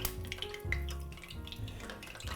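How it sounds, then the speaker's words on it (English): Rounds of baguette deep frying a couple at a time in very hot olive oil, giving a steady bubbling, sizzling hiss at low volume throughout. "Firstly, I'm gonna deep fry these rounds of baguette,"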